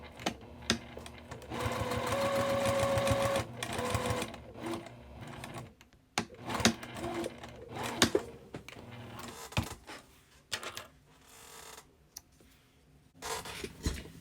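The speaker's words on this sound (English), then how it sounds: "you're going to sew it together along there" Sewing machine stitching cotton quilt block pieces together for a card trick quilt block, a steady close motor whir running in bursts with short pauses and small handling clicks between seams.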